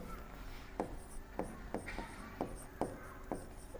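Chalk or marker strokes on a classroom board during a maths lesson, a series of short scratchy taps and rubs spaced unevenly, fairly close and quiet, with no talking.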